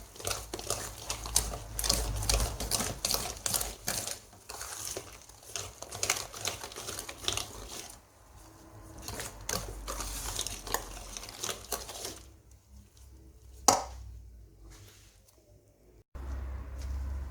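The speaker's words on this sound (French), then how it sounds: "on va mélanger jusqu'à obtenir une pâte lisse et homogène" Eggless chocolate muffin batter being mixed until smooth, with a steady rapid clicking and scraping of a utensil against a bowl, fairly quiet and close, pausing briefly before resuming.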